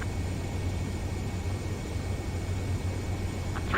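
A jet aircraft on landing approach in Ace Combat 7 gives off a steady, even engine roar and wind rush that holds at constant loudness throughout, with no voices.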